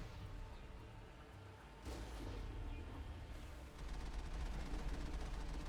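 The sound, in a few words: Mako machine gun firing in video game Mass Effect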